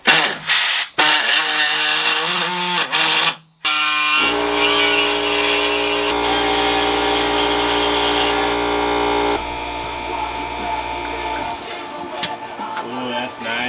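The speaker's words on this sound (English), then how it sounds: "after probably 30 minutes of cutting and mutilating this center trim piece" A power tool cuts and grinds away at a metal center trim piece for a billet fuel door on a Ford Galaxie. It starts with short loud bursts, then settles into a long steady high whine that shifts pitch partway through and fades near the end.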